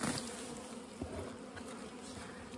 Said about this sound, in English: Such gentle bees.